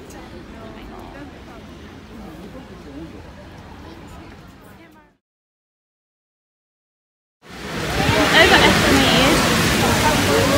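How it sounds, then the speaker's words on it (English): Heavy rain pours outdoors at Canary Wharf in London on a winter evening, a dense steady hiss that cuts out completely for a couple of seconds, then returns louder and closer. "It's pouring right now."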